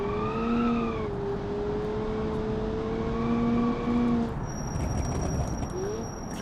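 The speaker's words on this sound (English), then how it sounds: "Hear them squeaking away, huge brake fade, no cooling on the brakes." Overheating brakes on a car in the BeamNG Drive driving game, with severe brake fade and smoking rotors, give a loud sustained tonal squeal that glides and wavers in pitch across several seconds over engine and road noise, joined late by a thin high whine.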